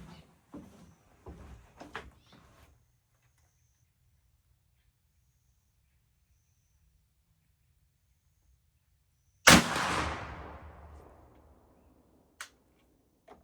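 A reproduction Richmond Model 1862 rifle fires a single sharp, loud shot from a seated rest outdoors, with a long rolling echo trailing off afterward, followed by a faint distant click.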